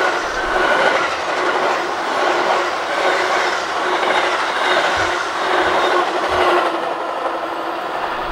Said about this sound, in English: we've got an outbound train coming toward the Lisle station